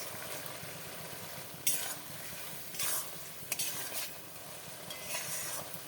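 Fried amodi fish simmering in bubbling gravy in a pan, a low steady sizzle broken by several short bright scrapes and clinks of a spoon stirring against the pan.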